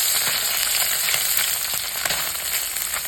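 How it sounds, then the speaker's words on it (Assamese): Small fish sizzle and crackle in hot oil in a frying pan, a steady close sizzle with occasional pops and no speech. "ভাজি আছোঁ"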